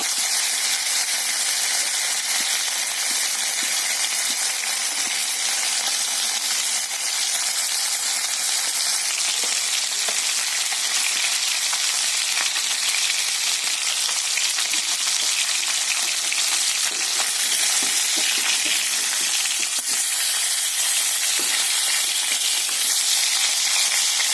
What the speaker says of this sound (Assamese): এয়া শ'ল মাছ মই ভাজি আছোঁ।